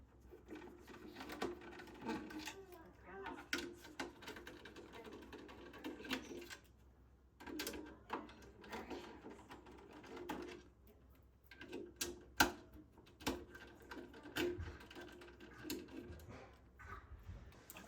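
Small screws are backed out during a Minisforum N5 Air mini PC teardown, with faint close-up clicks, scrapes and tool ticks in irregular short bursts against a quiet room.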